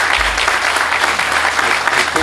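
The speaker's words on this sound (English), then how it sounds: "And could we have a nice round of applause for Susie and everything she's doing?" Audience applause at a groundbreaking ceremony for a discovery center, a steady, loud burst of clapping from a crowd that holds evenly throughout.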